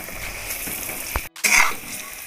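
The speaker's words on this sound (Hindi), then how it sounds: "पीसी हुई दाल को डाल करके अब भूनूंगी 25 मिनट तक" Ground chickpea lentils roast in ghee in a pan for chickpea halwa, giving a steady close sizzle with a brief stir and a short break midway.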